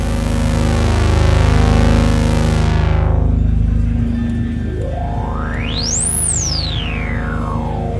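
A NINA 12-voice analog polysynth plays a loud, dense, buzzy sustained tone as its filter sweeps down. It then settles, and a resonant filter peak sweeps up and back down in a whistling arc.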